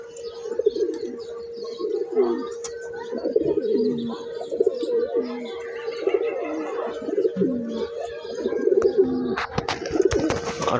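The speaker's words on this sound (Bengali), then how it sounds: "মাদিগুলার দেখা গোসল করতে এই বেদবগুলা পাগলামি লাগাই দিছে নর কবুতরগুলা" Male pigeons in a loft coo repeatedly and excitedly, a steady run of throaty, rolling calls close by, with occasional chirps and fluttering toward the end.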